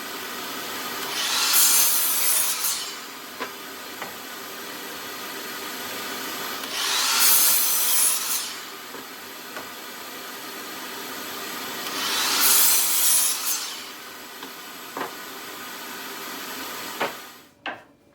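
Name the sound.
sawing 2x4 lumber boards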